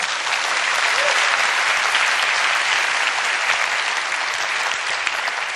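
Sustained applause from a sizable audience at a writer's talk, dense and steady clapping throughout with no voices standing out.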